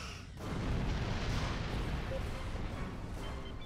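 Torpedo spread launched in Star Trek Online, a sustained rumbling barrage of booming weapon fire that swells after a brief quiet start and stays loud and dense throughout.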